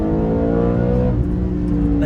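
2013 Audi RS5 V8 revving hard, a loud, close engine roar with a climbing pitch that holds steady and then eases slightly near the end, with no talk.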